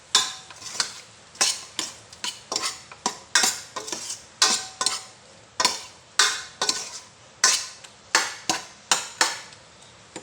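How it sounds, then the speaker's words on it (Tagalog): Chicken pieces frying in a pan with their own oil, with repeated sharp scraping and stirring clatters of a utensil against the pan over a low sizzle. "pakatasin muna natin yung chicken para lumabas yung kanyang natural oil, yung tinatawag na chicken oil"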